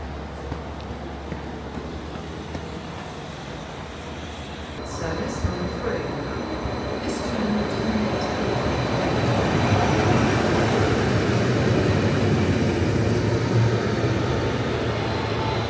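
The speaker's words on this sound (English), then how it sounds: "So you now join me on the platform at Cardiff Central Station, waiting for my train." Steady rumble of a train at a platform in Cardiff Central Station, building louder over time with hissing, brake-like squeals and a faint distant chime.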